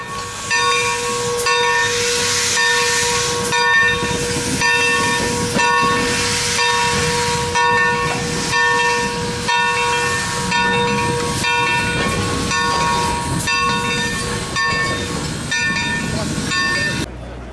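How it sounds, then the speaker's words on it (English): A steam locomotive hisses steadily at the depot on the Texas State Railroad in Palestine, close and loud, with a continuous broad hiss and a sustained ringing tone running throughout. "this locomotive put on an excellent show for both passengers and all the rail fans"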